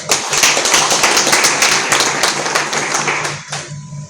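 Ward members at a ward association gathering clap loudly and rapidly in honour of guests. The clapping is close and energetic at first, then tapers off toward the end.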